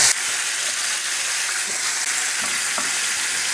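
Onions sizzle and fry steadily in chicken fat in a pan, a close, continuous crackling hiss with a few soft stirring scrapes, no voices.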